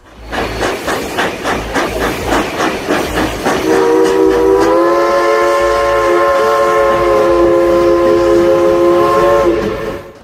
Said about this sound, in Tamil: இந்த ரயில் இன்னமும் பயணம் பண்ணிக்கிட்டே தான்